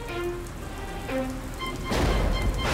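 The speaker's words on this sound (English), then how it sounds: "Uh-oh, I think it's going to rain." Rain falling in a children's cartoon about bunnies building a barn, soft pattering drops that swell into a heavier, louder downpour toward the end.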